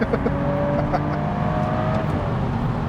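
A turbocharged BMW 135i engine accelerates with a rising whine and steady roar from inside the vehicle, with a voice speaking briefly over it.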